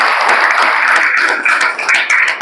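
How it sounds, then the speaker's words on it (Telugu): A room of people attending a leadership training session claps together for the Winning Team System, producing dense, loud, continuous applause with slight dips near the end as the clapping loosens. "విన్నింగ్ టీమ్ సిస్టమ్కి ఒకసారి గ్రేట్ క్లాప్స్ మీరు ఇవ్వాలి"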